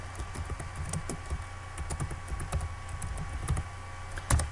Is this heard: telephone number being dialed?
no